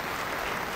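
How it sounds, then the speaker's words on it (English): Spectators at a bowling match clap together in a short, steady burst of applause filling the hall. "And the crowd responding to what has been a terrific opening salvo."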